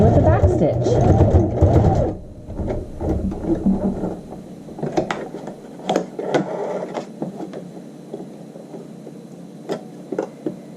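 A domestic sewing machine runs loud and continuous while stitching a clean-finish hem on a child's shorts around to the inseam, then stops; it is followed by quieter handling clicks and small taps.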